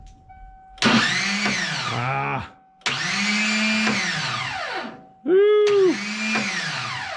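A starter motor on a 1992 Ford F150 cranks in three long bursts of whirring, its Bendix spinning without engaging the engine. A steady door-chime tone hums in between, and a brief voice exclamation breaks in.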